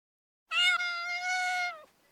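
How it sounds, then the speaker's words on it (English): A domestic cat gives a single drawn-out meow, close and clear, rising at the start and holding for about a second before trailing off in near silence. "this is Gizmo, my cat. He always has something to say"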